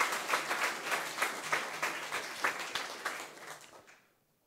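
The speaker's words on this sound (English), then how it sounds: "So give him a big applause, please." Conference audience at a technical talk on Debian package delivery applauding steadily, many hands clapping in a dense patter that thins and fades out toward the end.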